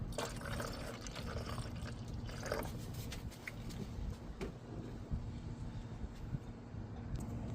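Engine coolant is poured into the reservoir of a 2008-2013 Nissan Rogue, a faint, steady liquid trickle and splash heard up close with no talking.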